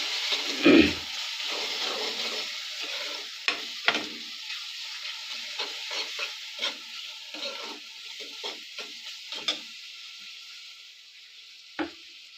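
Coriander powder and garam masala frying in oil for toor dal, a steady hissing sizzle with a spoon scraping and tapping the pan at irregular intervals, close up.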